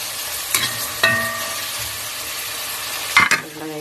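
Tomatoes cook in a pan for Filipino pakbet, a soft steady sizzle with a few sharp clinks of a utensil stirring against the pan.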